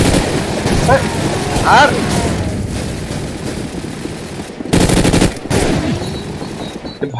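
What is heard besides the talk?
gunfire from the video game Call of Duty Mobile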